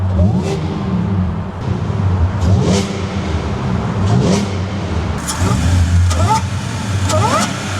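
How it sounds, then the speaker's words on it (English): Supercharged Audi S4 wagon engine revving in several rising bursts with supercharger whine, close and fairly loud over a steady low rumble, a voice briefly audible. "the supercharger does make a pretty nice"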